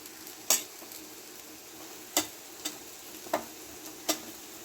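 Turmeric and chili powder spices frying in a pan: a soft, steady sizzle under a handful of sharp, irregular clicks as a spoon stirs and taps the pan, with no voices.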